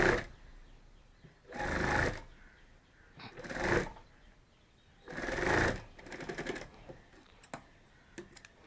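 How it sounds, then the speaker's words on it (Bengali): A sewing machine stitches a bag in three loud, close bursts of rapid mechanical whirring, separated by pauses filled with softer handling clicks and rustles of the fabric. "এই যে একবার হয়ে গেল, আবার এইটা সেলাই করব।"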